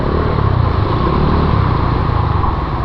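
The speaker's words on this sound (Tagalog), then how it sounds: "Ganyang motor oh, walang problema yan." A motorcycle with a CVT rides through shallow typhoon flood water along a flooded street, its engine a steady loud drone with broad splashing wash, continuous and close throughout.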